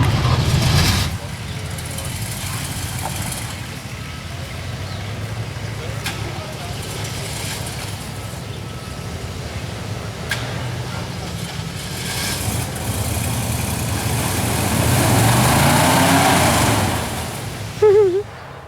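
A yellow Jeep TJ on highway gears grinds and crawls over slippery rocks, its engine droning steadily with surges in revs and a louder push near the end, while people talk over it.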